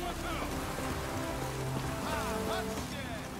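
Steady rain patters down in The Witcher 3: Wild Hunt, a dense continuous wash of droplets on surfaces, with faint tonal game sounds and murmuring voices in the background.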